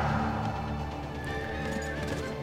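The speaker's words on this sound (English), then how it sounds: "these light horses will keep on trying to attack our citizens" Light horses in the strategy game Rise of Nations, with repeated whinnies and neighs over clip-clopping hooves layered in busy game audio.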